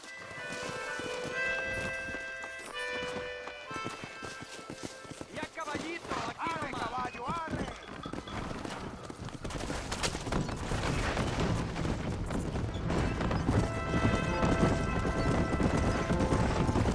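Rhythmic clip-clop of horse hooves in Red Dead Redemption under music and talking voices, with a horse whinny partway through and the trotting growing louder toward the end.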